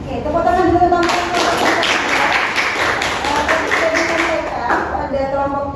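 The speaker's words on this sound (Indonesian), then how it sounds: "Oke, tepuk tangan dulu teman-teman." Classmates clap together after a student's presentation in a classroom, a short burst of close, lively hand claps that starts after a voice speaks and fades as talking resumes over it.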